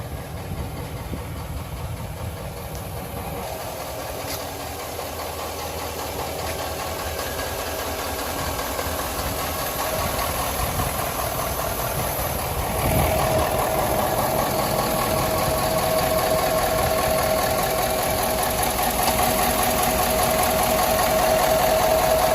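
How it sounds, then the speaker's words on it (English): A 2017 Ford F350 Platinum dually pickup truck idles steadily with a low, even engine hum and faint mechanical ticking, heard up close without any talking. "this truck is currently running, so this engine is, I would say, quite a bit quieter than the 2016 model"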